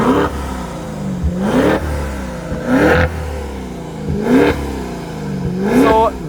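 A Maserati Levante engine revs hard four times in evenly spaced, rising bursts. Each surge climbs and falls back to a lower rumble between pulls, loud and close.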